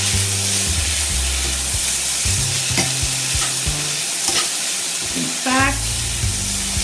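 Beets wilting in hot oil in a pan give a loud, continuous sizzle, with clanking stirs and scrapes and a brief squeaky scrape near the end, and no talking.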